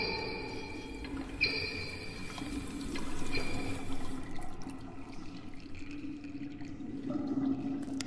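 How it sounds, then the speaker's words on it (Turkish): A toilet flushing in the video game Follia Dear Father: a rushing, gurgling surge of water that swells and then fades to a quieter trickle, fairly close, no talking. "Sifonumu çektim, ne oldu lan?"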